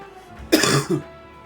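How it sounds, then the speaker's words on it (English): A single harsh cough followed by a smaller throaty one, close and fairly loud against a quiet background. "You'll be hearing me coughing a little bit, off and on."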